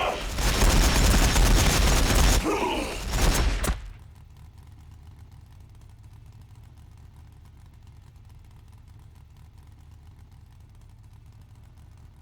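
Orks firing on Necron Lich Guard in a Warhammer 40k battle game, a loud dense burst of gunfire and booms for about four seconds that cuts off abruptly, leaving a low quiet hum.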